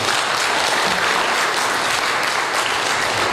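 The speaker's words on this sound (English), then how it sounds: "Please give a big applause to them." A crowd applauds loudly and continuously, dense clapping filling the whole stretch without a break.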